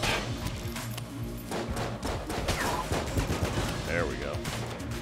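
Rapid bursts of gunfire from an unusual bullet-spawning gun in the video game Enter the Gungeon, crackling continuously at steady loudness across the clip with music and game effects layered underneath.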